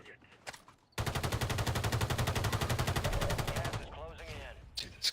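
Rapid automatic gunfire in Call of Duty: Warzone, one loud continuous burst of about three seconds starting abruptly, with brief game noise before and after.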